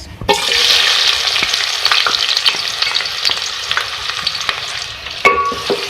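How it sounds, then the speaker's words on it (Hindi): Onions frying in mustard oil for beef achar gosht, a steady loud sizzle throughout with a few spoon scrapes and a brief burst near the end, no voices. "ये देखिए आप देख सकते हैं यहाँ पे जो अपने प्याज को फ्राई कर रही थी"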